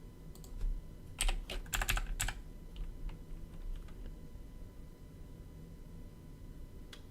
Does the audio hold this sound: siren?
no